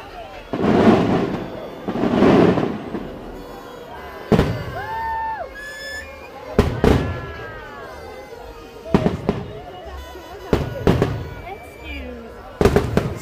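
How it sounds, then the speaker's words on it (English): Fireworks bursting over a New Year celebration, several loud sharp bangs and crackles in clusters with whistling streaks between them, while a crowd cheers and people talk nearby. "see, there's fireworks up here."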